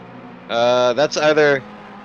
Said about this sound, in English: That's either a 4-cylinder or the weirdest sounding V8 I've ever heard